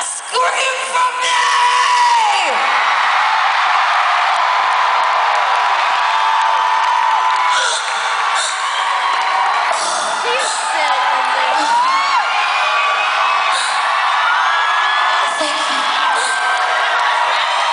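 A crowd whoops, screams and cheers at a performance, loud and continuous throughout, with shrill individual yells rising above the mass.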